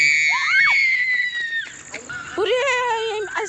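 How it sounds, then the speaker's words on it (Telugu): A ghost shrieks as it dies: a loud, rising and falling scream that sweeps up and down in pitch. It breaks off briefly, then comes back in wavering wails near the end, alone and close. "అరిచి చనిపోయింది."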